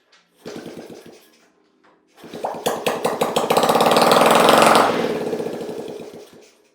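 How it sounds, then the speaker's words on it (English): A 1980 Honda Z50R small motorcycle engine kicks over with a few sputtering pops, dies briefly, then catches and runs with a loud, rapid, rattling idle that revs up before settling and fading. "So there we got a successfully running 1980 Z50R motor"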